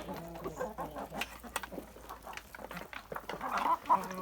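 Young hens, Livenskaya chintz, Amrox and White Leghorn, clucking in a backyard: soft, irregular clucks and murmurs from several birds nearby, fairly faint, with a brief louder call near the end.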